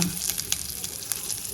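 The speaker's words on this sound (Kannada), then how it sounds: "ಒಗ್ಗರಣೆಗೆ ಸಾಸಿವೆ, ಜೀರಿಗೆ, ಕರಿಬೇವು ಸೊಪ್ಪು, ಅರಿಶಿನ," About a spoon of oil sizzles with mustard seeds, cumin, curry leaves and turmeric in a tempering for Karnataka-style bisi bele bath, giving a close, continuous crackle dotted with sharp little pops, and no voices.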